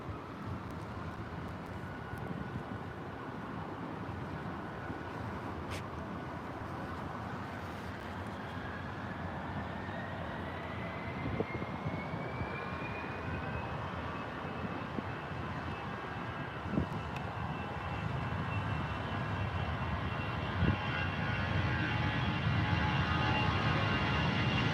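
Jet aircraft engines at Heathrow airport, a steady broad roar that slowly builds in loudness with a rising whine as a plane spools up near the runway queue, with light wind noise and no talk.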